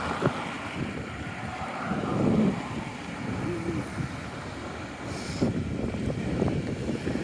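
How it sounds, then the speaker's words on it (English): Wind buffets a microphone at a street intersection on North Street, a loud, continuous low rumble that swells and eases over several seconds, with no one speaking. "the wind's only blowing when I'm on the intersections"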